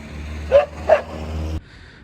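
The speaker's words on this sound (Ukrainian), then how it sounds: "Там собака вона така велика" A big dog barks outdoors, two loud close woofs about a third of a second apart over a low engine-like rumble that stops abruptly near the end.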